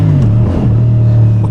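Loud, close engine of a CFMoto CLC 450 bobber motorcycle pulling along a narrow town lane, its deep rumble dipping and then holding steady as it accelerates, echoing slightly off nearby walls.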